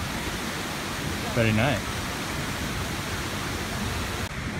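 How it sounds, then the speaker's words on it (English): Water from the Magic Fountain cascade in Barcelona, a steady broad rushing hiss that runs the whole time, with a brief voice over it. "As we go down from the museum, it's the waterfall."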